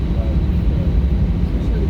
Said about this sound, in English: Real quick, folks, while we're taxiing to the gate, just do a little bit of inventory.